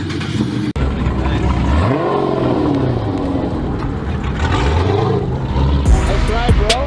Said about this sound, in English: It's a Hellcat OEM catback and American Racing long tube headers.